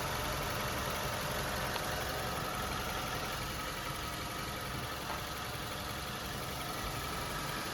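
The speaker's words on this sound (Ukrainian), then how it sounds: "двигун працює ідеально." A 2014-2015 Suzuki SX4 1.6 petrol engine with automatic transmission idles at an even pitch for the whole stretch, a constant low rumble with a faint high whine, no speech over it.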